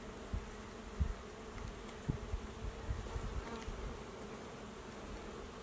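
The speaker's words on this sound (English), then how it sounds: "Can you hear the bees?" A steady, dense buzzing of many bees in a lavender field outdoors, continuous and moderately loud, with a few soft thumps underneath.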